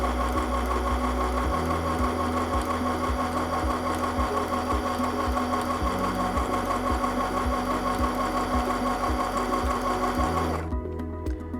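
A sewing machine stitches fabric at a steady, fast mechanical rhythm, loud and close, running continuously for about ten seconds before stopping abruptly near the end.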